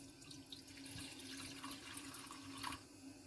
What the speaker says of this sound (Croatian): Sipamo vodu,